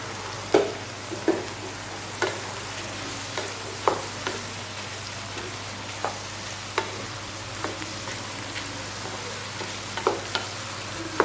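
Tomatoes and dried red chillies sauté in a pan for a spicy chutney, giving a steady, even sizzle with sharp, scattered spatula scrapes and clicks over a low background hum, and no one speaking.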